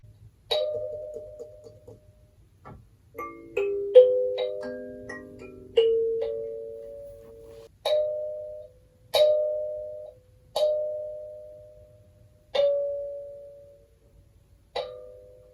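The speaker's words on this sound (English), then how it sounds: "I recorded a bunch of sounds from this thumb piano" Plucked thumb piano notes ring out one at a time, bright metallic tones with short decays, spaced a second or two apart in a quiet room.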